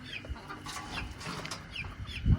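Hens cluck softly in a home poultry setup where eggs are collected for hatching, with scattered clucks over a low rustling background and a thump near the end.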